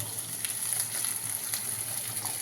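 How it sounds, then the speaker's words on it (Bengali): Onion stalks frying in fish oil give a faint, steady background sizzle with light crackles, no voices present. "মাছের তেল দিয়ে পেঁয়াজ কলি দিয়ে ভাজা"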